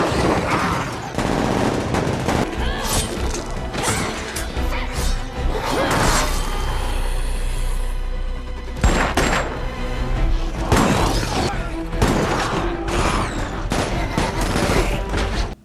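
Heavy gunfire in a Suicide Squad movie battle scene, with dense automatic volleys and sharp bursts crashing in repeatedly over a loud, continuous action soundtrack.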